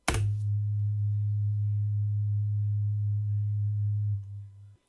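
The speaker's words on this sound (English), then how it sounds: "let me allow you to listen what 100 Hz" A steady 100 Hz sine test tone, a pure deep bass hum, starts abruptly, holds at constant loudness for about four seconds, then drops lower briefly before cutting off.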